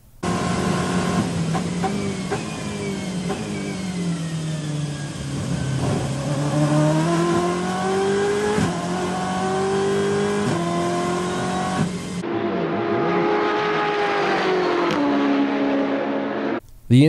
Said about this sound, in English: giving the racing engine an even sportier sound